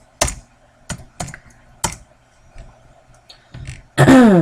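Keys on a computer keyboard being typed on while entering a shape width in Excel, heard as a handful of separate, close clicks spaced irregularly, then a sudden burst of tonal noise at the end.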